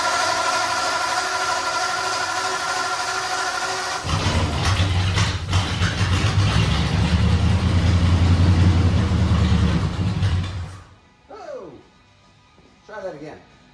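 A Ford Model A Roadster with a Thickstun PM7 intake and a bypassed neutral safety switch is cranked and its engine catches, giving a loud close rumbling run that cuts off, then a voice talks briefly in the quiet afterward.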